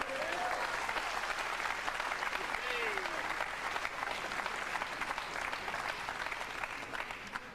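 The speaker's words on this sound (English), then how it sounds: "Crowd here in Cardiff giving Steve Davis every form of encouragement." Sustained loud applause from a crowd at a professional nine-ball pool match in Cardiff, continuous clapping filling the hall throughout.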